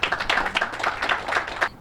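Audience members at a Louisiana ceremony launching the 1811 Slave Revolt Trail clap together in a brief, steady burst of applause that stops abruptly near the end, with no talking.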